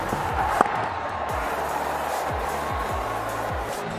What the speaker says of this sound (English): It's a big Sunday crowd here today.